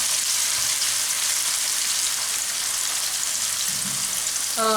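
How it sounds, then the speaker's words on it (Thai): Sliced straw mushrooms sizzle in hot oil with a dense, crackling hiss like light rain on a surface, steady and close for several seconds, ending with a short tonal clink. "เราก็เอาเห็ดฟางของเราที่เราหั่นแว่นแล้วนะคะ ลงมาทอดนะคะ"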